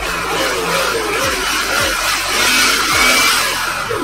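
A cordless air blower's 7,000 rpm motor runs continuously with a steady, loud whine and a broad airy hiss, like a small blower fan spinning at speed, with no pauses.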